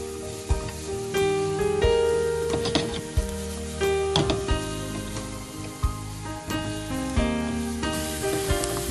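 Chopped onion frying with salt in a pan, a steady sizzle with intermittent scraping and clinks from stirring, close and continuous, with background music playing.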